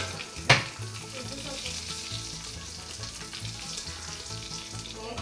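Chillies, curry leaves and mustard seeds crackle and sizzle in hot oil for a tempering, a steady close hiss with a sharp pop near the start and soft music beneath.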